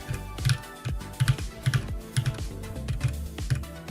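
Computer keyboard being typed on in quick clustered keystrokes and thumps, close and fairly loud, recurring roughly every half second with no talk.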